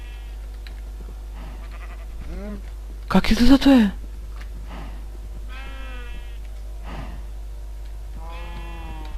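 Sheep in Minecraft let out a few short bleats, interspersed with a player talking casually in Bulgarian and a brief louder burst partway through.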